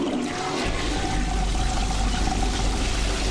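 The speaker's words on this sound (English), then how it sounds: "I just love the little toilet flush sound effect here that you just get to listen to" A toilet flush sound effect from a video game plays as a steady rushing, gurgling wash of water, continuous and fairly loud for a few seconds with no voices over it.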